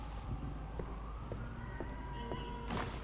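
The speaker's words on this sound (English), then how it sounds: "There's lots of sirens and stuff, isn't there?" Police sirens wail in a rough neighborhood within the video game Crime Scene Cleaner, a wavering tone that stays moderately loud under other game noise across the three seconds.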